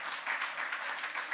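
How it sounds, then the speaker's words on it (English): A crowd at a public gathering with Governor Hochul and Rev. Al Sharpton gives a steady round of applause, dense clapping at moderate level with no break. "Let's give him another round of applause as well."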